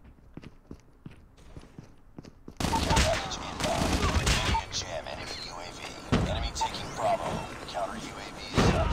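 Gunfire from a picked-up weapon in Call of Duty Mobile bursts in loudly after quiet footsteps, rapid repeated shots and impacts continuing near and dense through the rest of the clip.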